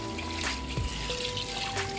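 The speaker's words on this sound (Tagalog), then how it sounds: "Lagyan na natin ng tubig." Water trickles and pours into a pot of chicken tinola on the stove, a short, steady liquid splash with a faint background hum.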